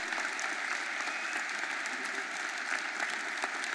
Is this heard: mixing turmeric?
no